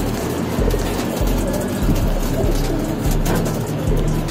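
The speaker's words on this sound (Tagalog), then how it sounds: "Ang ibon, ang gaganda ng mga ibon dito." Racing pigeons in a loft coo in low, repeated throaty pulses, close and steady, with a constant background rumble throughout.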